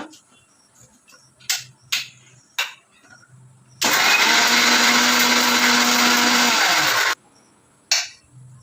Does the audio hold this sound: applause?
no